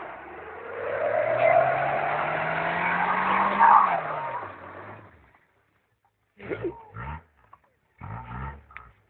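A Honda Civic with a 1.3 engine spins its wheels, a loud revving engine and squealing tires that rise and fall for about five seconds. After a pause, people talk.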